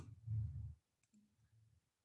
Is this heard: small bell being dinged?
no